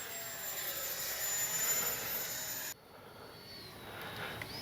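E-flite 64mm Viper RC electric ducted-fan jet on its maiden flight, a steady high whine that drops sharply partway through to a fainter, more distant whirr.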